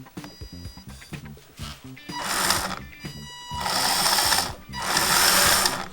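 The electric motor of a home-built RC rock crawler whirs during a bench throttle test in three rising bursts, each spinning up with a high whine and then stopping, close and fairly loud.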